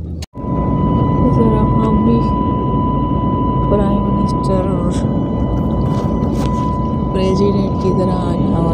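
A passenger airplane taking off, heard from inside the cabin as a loud, steady engine roar with a sustained high whine that holds for several seconds, with faint voices underneath.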